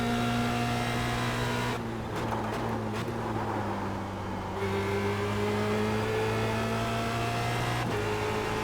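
Formula Renault single-seater race car at Monza in the iRacing simulator, engine droning steadily at high revs with brief gear-shift dips and renewed pulls as it accelerates, heard alone with no talking.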